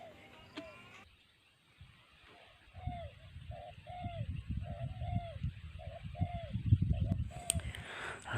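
A spotted dove coos in a repeated series of soft, rhythmic notes, moderately near against rustling and low handling noise, with a brief voice before the calls begin.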